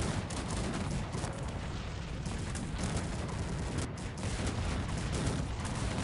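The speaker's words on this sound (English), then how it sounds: "Blue army getting rocked by cannons." Massed cannon fire rumbles through a Cossacks 3 battle as a dense, continuous wash of booms and crackling shots. It is steady and fairly faint, with no clear gaps.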